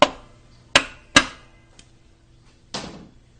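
Sharp metallic taps from the back of a hammer on a ZF car gearbox part, three quick strikes, a faint tick, then a duller knock, each ringing briefly.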